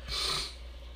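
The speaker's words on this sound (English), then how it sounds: "Sorry guys for all the sniffling and stuff." A single short, wet sniff through the nose, close and fairly quiet.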